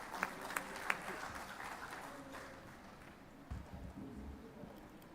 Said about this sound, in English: So please, a round of applause for Dr. Vasudevan from Edelman.